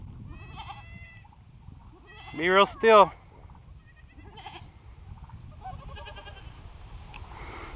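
Newborn baby goats and their mother bleat in a pair of loud, close calls midway, with fainter bleats before and after, while people speak quietly around the animals.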